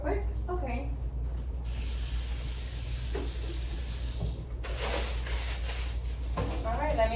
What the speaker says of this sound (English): let me just go ahead and wash my hands real quick